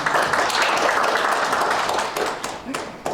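Audience applause welcomes the first presenter at a lecture on building a real estate agent's homepage with Notion; dense, steady clapping fills the room for about three seconds before it thins out.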